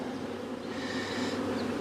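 Honey bee swarm gathered on a wall near an apiary hive, a dense continuous buzzing drone of many bees, close and steady throughout with no voices.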